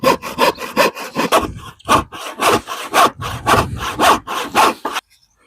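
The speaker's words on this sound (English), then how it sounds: "I'm going to have to try and cut that by hand so I get a thin sliver to go in the middle." A hand saw cuts a thin sliver of wood, the sound a loud, close series of about a dozen rhythmic rasping strokes that stop abruptly into silence.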